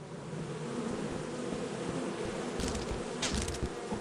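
Bees buzzing in the video game Lethal Company, a steady dense drone of insect wings with a few brighter hissing bursts near the end, no voices.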